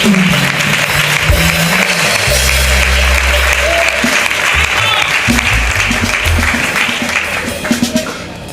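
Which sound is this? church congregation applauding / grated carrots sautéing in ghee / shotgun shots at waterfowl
church congregation applauding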